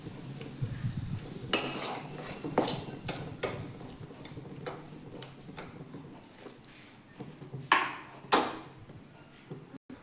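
A mango laddu mixture with melting sugar stirred in a pan, giving repeated scraping clinks and metallic taps of a spoon against the pan at an irregular pace, close and fairly quiet, with a couple of sharper pings near the end.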